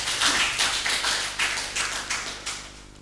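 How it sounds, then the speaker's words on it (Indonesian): An audience at an Islamic Qur'an quiz contest claps for a team, with dense, fairly loud applause that swells and fades in uneven bursts, and nobody speaks. "Para penonton, kita berikan tepuk tangan dulu kepada mereka."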